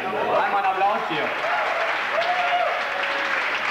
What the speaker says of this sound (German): Einmal einen Applaus hier.